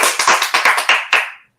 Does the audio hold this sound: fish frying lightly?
no